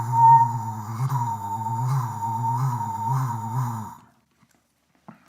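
A speckled-belly goose call blown from the backside gives a sustained, reedy honking tone that wavers in rhythmic pulses for about four seconds, loud and close, then stops into near silence.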